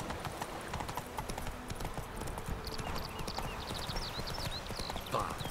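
Rhythmic horse hooves clip-clop steadily over a noisy soundscape in The Witcher 3: Wild Hunt, with faint chirping birds and a brief whinny near the end.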